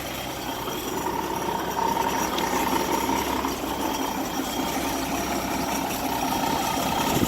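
A Studebaker/REO US6 military truck engine with a freshly rebuilt carburetor idles quietly and steadily, a continuous low, even rumble heard up close without any talking.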